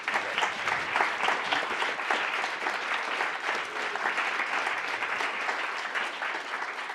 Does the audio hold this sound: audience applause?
yes